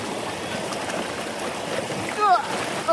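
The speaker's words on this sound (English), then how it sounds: "Wow, that water really runs." A fast-running stream at a hiking campsite gives a steady, close rush of water that fills the whole stretch, with a few brief high chirps near the end.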